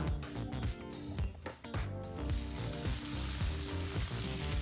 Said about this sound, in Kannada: ಈಗ ಸಿದ್ಧವಾಗಿರ್ತಕ್ಕಂಥ ಈ ಒಗ್ಗರಣೆಯನ್ನು ಚಟ್ನಿಗೆ ಹಾಕ್ಕೊಳ್ಳೋಣ